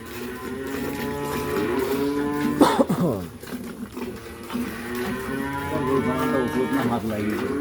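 A tall dairy cow that has calved once lows repeatedly on a farm in the morning, long resonant moos close by, with a brief rough cough-like sound midway and faint background noise.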